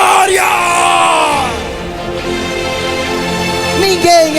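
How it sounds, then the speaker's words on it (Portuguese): A church congregation during a sermon shouts and yells together in praise, a loud sustained crowd roar with whoops and bellowing cries rising over it throughout. "dê um berro de glória"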